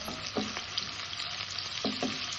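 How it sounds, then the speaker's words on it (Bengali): Cubed onions fry in a pan with a steady close sizzle, broken by a few short stirring scrapes, and nobody speaks. "আমরা পেঁয়াজ কিউব করে রেখেছি, এগুলো দিব। তাই এগুলো আমরা একটু ভেজে নিব।"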